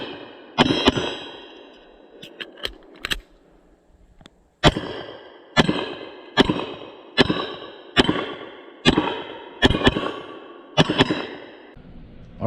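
A Sig P226 Legion 9mm pistol fired outdoors, sharp loud reports spaced about a second apart, a quick cluster early, a pause, then a steady string of shots with short echoes, no talking.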